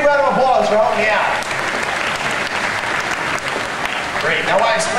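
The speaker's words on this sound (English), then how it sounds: "Give both a big round of applause for helping me out." Audience applause at a theme park stage show, dense steady clapping that holds for the whole stretch, with a voice talking over it through the amplified sound.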